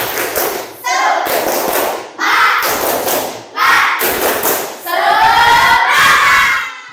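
A class of children in a sixth-grade lesson performs the tepuk semangat clapping chant, bursts of rhythmic group claps and thumps alternating with shouted chanting voices in roughly four loud phrases separated by short gaps.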